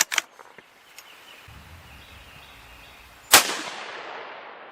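Two sharp rifle shots from a 6.5 Grendel during an ammunition test, one right at the start and a louder, closer crack later followed by a decaying echo, with faint handling noise between.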